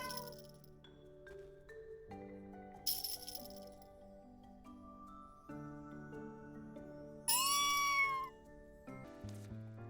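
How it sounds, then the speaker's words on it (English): A cat in Little Witch in the Woods gives several meows over soft, layered game music, the loudest cry rising high near the end. "On day 35, I played with a cat."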